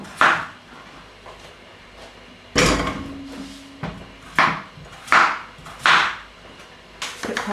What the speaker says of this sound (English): I'm going to chop the potato into smaller bits because then it will cook much quicker